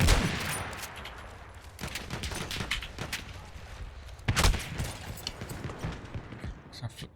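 Pistol shots in a first-person shooter video game ring out in scattered sharp cracks with one heavier burst midway, mixed with gameplay noise while a person talks over it.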